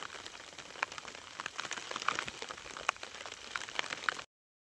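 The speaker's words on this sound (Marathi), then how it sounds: "आता पाऊस चालू झालाय एक दहा मिनटं झालं पाऊस चालू आहे" Steady rain hisses down, with scattered louder drops pattering on a nearby surface, likely paper covering; no voices, and the sound cuts off abruptly at the end.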